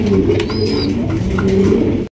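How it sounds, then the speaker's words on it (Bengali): A Mundi pigeon coos in low, continuous rolling tones, close and loud, with no voices over it. "দেখতেই পাচ্ছেন খুবই চমৎকার একজন মুন্ডি কবুতর"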